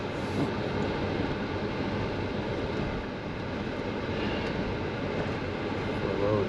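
A four-wheel-drive vehicle crawls through deep snow in 4 low on the way to an off-grid cabin, with a steady low engine drone and rumble that carries on without a break.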